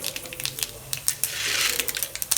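Mustard seeds crackle in hot oil in a pan on the stove while tempering for coconut coriander chutney, giving rapid, irregular sharp pops, with a brief sizzling swell midway.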